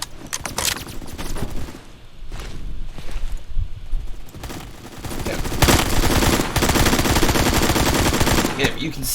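Automatic gunfire in a Battlefield shooter video game, rounds fired through walls: loud rapid bursts of machine-gun fire that build into sustained, dense shooting in the second half, with game impacts and clatter around the shots.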